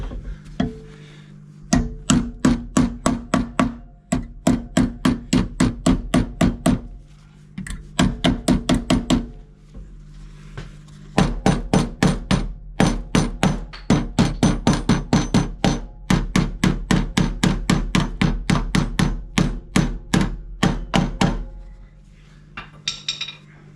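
Hammer bashing the left-hand sill of a Range Rover Classic flat during welding, loud metallic blows in fast rapid bursts with short pauses between, close by and alone.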